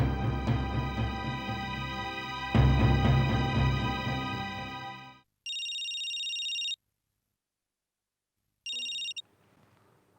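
An incoming call's telephone ringtone sounds in a Hindi TV drama scene, first a rich loud chiming melody for about five seconds, then two short bright electronic ring bursts separated by silence.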